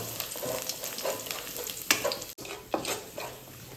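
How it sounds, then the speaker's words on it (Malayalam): Finely chopped garlic sautéing in hot oil in a pan for a spinach and lentil curry, a soft steady sizzle with intermittent scraping stirs and a brief clink, fairly quiet and close. "വെളുത്തുള്ളി ചെറുതായി ചരിഞ്ഞത് അതും ഏഡ് ചെയ്ത് കൊടുക്കുക ഇതെല്ലാം നന്നായിട്ട് ഒന്ന് വഴറ്റിയെടുക്കുക"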